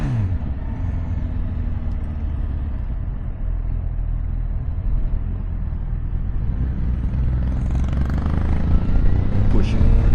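A Honda CB1000 Hornet 1000cc naked motorcycle accelerating at full throttle, a loud deep continuous engine roar with heavy rumble that swells toward the end, riding-wind noise throughout.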